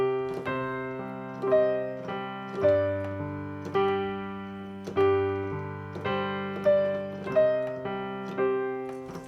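Game music cue with piano chords doubled on harp, moving through a slow chord progression with a fresh struck chord roughly every 1.5 seconds, each ringing and decaying; instrumental only, clear and close.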